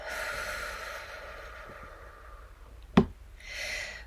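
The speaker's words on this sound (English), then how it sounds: "Let's take one more deep breath in and blow it out." A slow, deep breath drawn in and then blown out, close and soft, with a sharper puff of exhaled air near the end and no talking.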